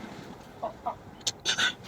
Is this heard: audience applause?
no